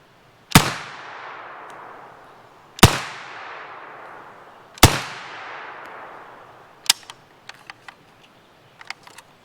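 A Nova NAK-9R 9mm AK-pattern rifle from Cugir, Romania fires three loud, widely spaced shots with ringing decay, followed by a cluster of quieter sharp metallic clicks and clacks.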